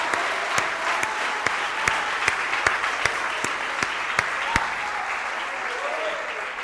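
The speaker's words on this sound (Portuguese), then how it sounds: "Então aplaude esse Deus." A church congregation applauds during a sermon, a steady roar of clapping with a few louder, evenly spaced claps standing out near the front and keeping a loose beat.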